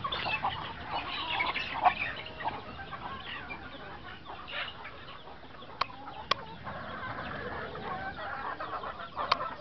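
Chickens and chicks, a mix of Texas and native Aseel fowl, cluck and peep on a farm, with scattered sharp chirps over a soft, busy background and no talk.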